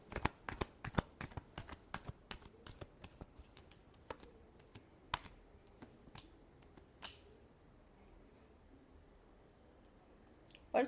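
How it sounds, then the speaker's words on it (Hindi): Tarot cards being shuffled, a rapid run of crisp riffling snaps that thins into scattered taps and ends in a short flurry, close and fairly quiet. "Last shuffle."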